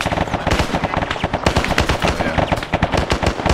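Medium machine gun fire in a military combat game, rapid loud bursts of automatic shots overlapping with other gunfire in a dense, continuous firefight.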